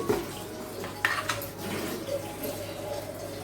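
Water is poured into a bowl while preparing pitha in a home kitchen, a soft, steady splashing pour running close and moderately loud throughout with a brief clink of a vessel near the start.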